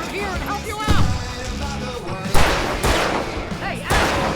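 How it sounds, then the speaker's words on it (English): Loud, booming explosions from fireworks set off in the video game Alan Wake, several heavy bursts amid a busy game soundscape with voices speaking over the blasts. "I can set off more of the fireworks from here and help you out!"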